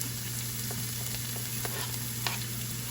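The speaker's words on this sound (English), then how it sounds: "So we're going to saute up our green peppers and our garlic." Green peppers and garlic sizzle gently in a pan on low heat, a steady close hiss with occasional light stirring clicks and no voices.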